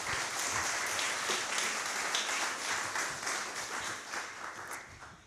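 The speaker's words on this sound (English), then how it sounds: "One more applause." An audience at a workplace inclusion symposium applauds a speaker, with dense, continuous clapping that gradually tapers off toward the end.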